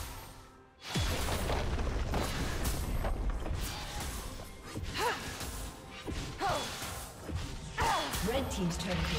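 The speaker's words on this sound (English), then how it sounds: "Red team's turret has been destroyed." In League of Legends, a turret is destroyed with heavy booming crashes and crumbling impacts amid other game effects, while a voice speaks over the action.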